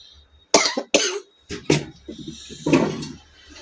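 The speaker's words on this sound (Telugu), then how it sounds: "నాకు దగ్గు కూడా ఎట్టుకుంది" A woman coughs several times in a row, loud and close, with short harsh bursts separated by brief pauses and a quieter throat-clearing rasp near the end.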